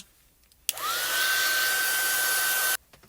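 A hair dryer blows on a wet, water-style card-making background, switching on abruptly with a rising whine that settles into a loud, steady drone for about two seconds before cutting off.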